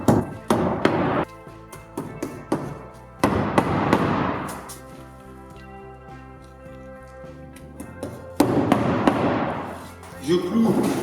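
Nails hammered into the wooden frame of a Normandy garden shed: clusters of sharp, loud blows with ringing resonance between them, close by, with someone speaking over part of it.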